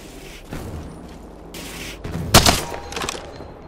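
Gunfire in the video game Apex Legends: a loud, sharp burst of shots with a few quieter trailing cracks over low in-game ambience.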